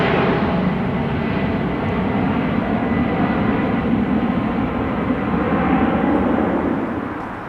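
An airliner departs Amsterdam Schiphol Airport bound for Zagreb, a loud, sustained jet roar close by that holds steady for several seconds and begins to fade at the end; no voices.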